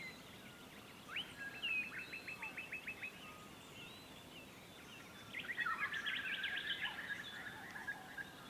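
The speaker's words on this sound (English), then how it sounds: "The birds sing the day in" Birds singing in a mild morning wilderness, two bursts of clear chirping song, the first a quick repeated trill and the second a busier warble, moderately distant over a quiet background.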